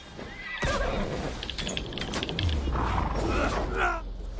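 Enemy rider's horse in Assassin's Creed Valhalla neighs and whinnies over clip-clopping hooves amid battle noise, close and prominent for a few seconds.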